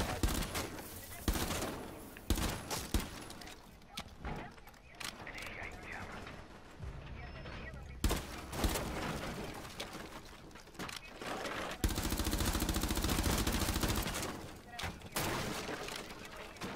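Rapid bursts of gunfire in the game Rainbow Six Siege, with loud volleys and shots scattered through the clip and a dense sustained stretch near the end, mixed with game sounds and voices.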